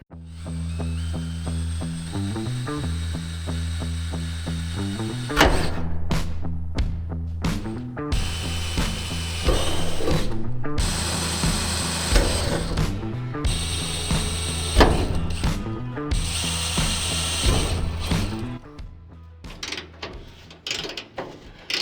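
Removing the hood of a car before a final paint job, with holes drilled through the hood hinges: a long stretch of mechanical tool work with bursts of drilling and ratcheting clicks, loud and close, no talking.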